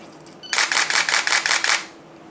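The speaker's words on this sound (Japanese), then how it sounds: "シャッター音がもたらす心地よさや撮ることの喜び" A Nikon Df camera fires a rapid burst of about eight shutter clicks in a steady rhythm, loud and close, with a faint mechanical whir just before the burst begins.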